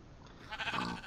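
A sheep bleats in Minecraft, a single short wavering cry rising out of a quiet background, close and moderately loud.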